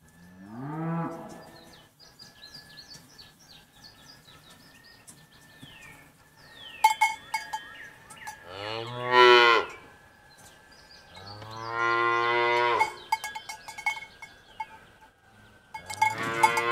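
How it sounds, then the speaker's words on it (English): A cow moos several times, long drawn-out bellows spaced apart with quiet gaps, fairly close, with faint clinks between calls. "Stop your goddamn hollering and mooing, you stupid cow."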